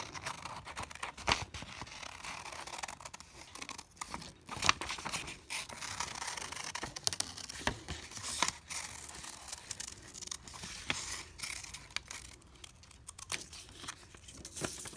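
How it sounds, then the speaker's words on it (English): Paper scissors snip and crinkle through paper while cutting out a round shape, with soft scratchy cuts and rustling that come close up in a quiet room, no talking. "just using our paper scissors,"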